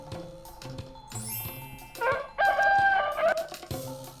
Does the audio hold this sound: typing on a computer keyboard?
no